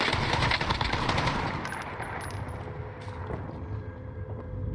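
Rapid automatic gunfire in a video game, a dense burst of shots that fades after a second or two into lighter mechanical clicks and game ambience, with no voices.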